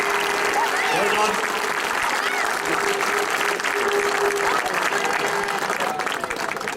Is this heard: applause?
yes